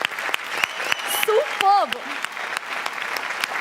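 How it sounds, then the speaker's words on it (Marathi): Studio audience applause at a Marathi comedy show, steady clapping running throughout with a brief spoken exclamation and a rising vocal tone over it. "जोरदार टाळ्या झाल्याच पाहिजेत"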